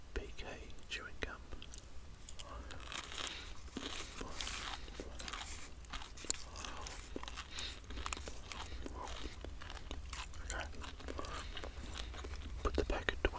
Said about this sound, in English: A bit of Wrigley's peppermint flavoured PK chewing gum